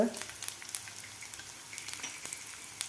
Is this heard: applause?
no